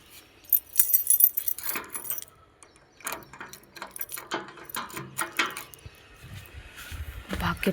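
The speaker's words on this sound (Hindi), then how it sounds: "मैंने ताला चाबी उठा दिया है" A bunch of keys with a padlock jangles and clinks in repeated bursts close up, bright metallic rattles coming and going over several seconds with brief pauses between.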